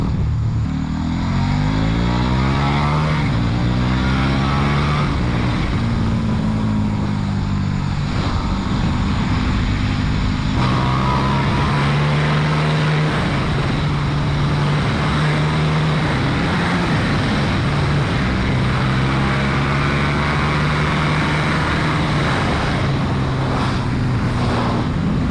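A KTM RC 8 sport motorcycle engine in a racing video game, revving steadily with rising and falling pitch through gear shifts, loud and continuous for the whole stretch with no talk.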